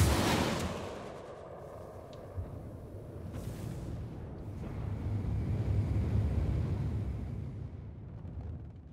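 Naval guns boom in the World of Warships video game, a heavy low rumbling blast with a long rolling tail that swells again midway, fairly loud with no talk over it.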